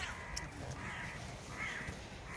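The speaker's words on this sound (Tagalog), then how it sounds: "Uwak daw, uwak." A crow caws in a garden, faint and distant, barely rising above a steady wash of outdoor background noise.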